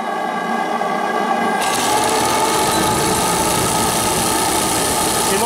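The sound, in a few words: Stuart D10 live steam water pump running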